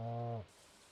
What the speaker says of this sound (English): it is a nice rainy day in Stardew